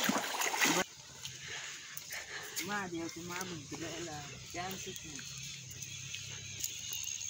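Someone wades through a rain-swollen village river, feet splashing and sloshing through flowing water close by over a steady stream rush, while a person talks throughout.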